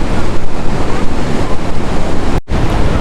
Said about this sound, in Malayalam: താഴേക്ക് നല്ല രീതിയിൽ നല്ല ഫോഴ്സിൽ വെള്ളം വീഴുന്ന കാണാം